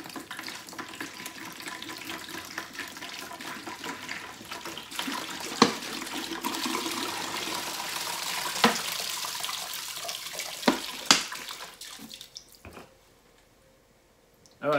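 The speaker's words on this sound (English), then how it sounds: "so there's our 2 liters of warm water" About two liters of warm water pours steadily into a plastic jug for a homemade apple deer-attractant mix, splashing for roughly twelve seconds with a few knocks before the flow stops and it goes quiet.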